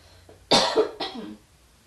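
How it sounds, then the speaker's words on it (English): Two sharp coughs in quick succession, close and fairly loud, the first stronger than the second, in an otherwise quiet room. "I got a cough, I'm sorry."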